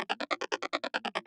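An SH-101 style synth arpeggio run through a phaser at moderate mix: a quick, regular string of bright notes with a swirling, sweeping tone, around a dozen pulses in just over a second, fairly quiet.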